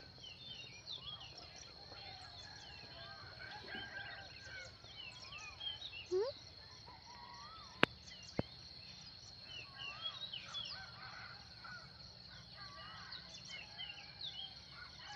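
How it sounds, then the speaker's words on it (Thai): Birds chirp and call around an outdoor morning scene, with a rooster crowing and insects buzzing faintly in the background; one sharp click stands out. "ไก่ขันนกร้อง"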